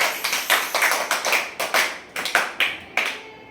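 Children clap their hands during a classroom English activity, giving a series of about a dozen sharp, slightly uneven claps at close range, with no talk over them.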